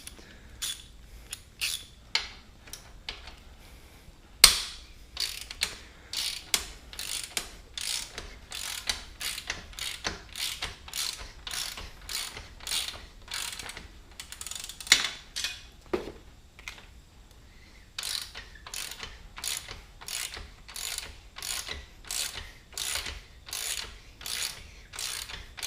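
A ratchet wrench turning a 14 mm bolt on the cylinder head of a 1986 Honda Fourtrax 200SX, rapid clicking bursts repeated in steady back-and-forth strokes, close and clear, with a short pause midway and no speech.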